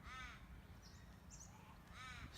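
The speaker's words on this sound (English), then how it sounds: "Lots of birds" On a farm, a crow caws twice, a short harsh call near the start and again near the end, faint and somewhat distant over a quiet low background hum.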